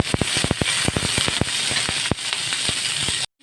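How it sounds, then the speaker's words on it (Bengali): Flat beans fry in hot oil in a home kitchen, giving a dense run of sharp, close crackles and pops over a steady hiss before cutting off abruptly. "আমি ওই তেলে সিমটাকেও হালকা ভেজে নেব।"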